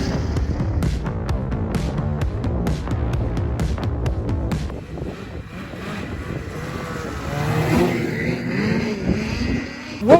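BRP Lynx RAVE RE 3500 snowmobile engine revving loud and close under throttle, with sharp rising and falling pulses through the first half, then a steadier mechanical roar and whine toward the end.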